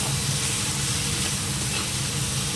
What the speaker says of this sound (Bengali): নিয়ে আবার একটু কষিয়ে নিই মশলাটা